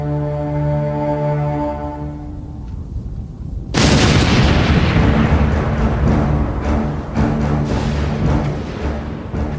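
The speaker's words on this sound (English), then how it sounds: "Big Bertha, the world's largest cannon." A massive boom erupts after a low droning tone as the Big Bertha cannon fires, followed by a long, rumbling roar of heavy gunfire that keeps echoing and crackling.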